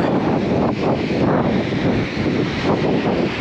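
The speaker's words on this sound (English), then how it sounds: "if it's too windy now, guys, I'm sorry about that" Strong wind on a Swedish seashore buffets the microphone in a continuous loud roar that swells and dips slightly, with no other clear sounds.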